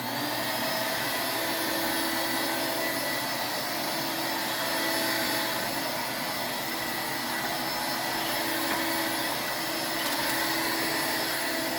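A 1986 Electrolux Discovery II bagged upright vacuum cleaner runs continuously with a loud, steady whirring roar and high motor whine, close by and unbroken throughout.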